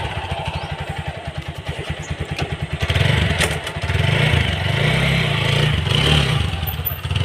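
A TVS Apache RTR 160 4V motorcycle engine, tested after a clutch cable replacement, thumps in a close, rapid pulsing beat that swells louder and deeper midway as the bike pulls away, with no speech.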